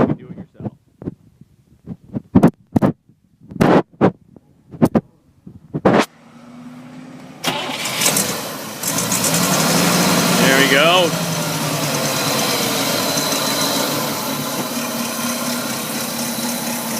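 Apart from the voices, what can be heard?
1962 Cadillac Series 62 big engine running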